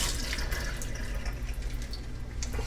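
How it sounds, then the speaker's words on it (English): Non-organic asparagus rinsed under running filtered water in a home kitchen, a steady close hiss of flowing tap water with faint splashes, continuous and without talk. "I'm going to rinse them off in filtered water because, you know, they're not organic."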